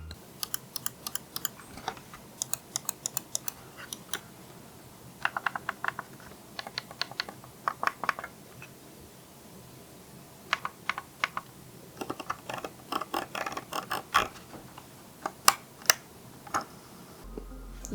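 Rapid clicking from a Logitech MX Master 3S mouse, bursts of crisp, close button clicks in quick irregular runs separated by short pauses, with no talking.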